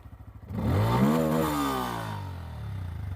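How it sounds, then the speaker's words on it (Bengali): A motorcycle fitted with a TASSLOCK combo security lock starts up without a key: a quick stuttering crank settles into a loud, steady engine idle close by, with no talk over it. "এই যে দেখেন বাইক কিন্তু স্টার্ট হয়ে গেছে"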